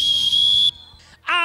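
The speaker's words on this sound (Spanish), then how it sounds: "¿Te anima a tocar el silbato para que entren a la cancha?" A referee's whistle is blown to call children onto a youth football field, one loud piercing blast of under a second, followed by a brief fainter tone and a short shout.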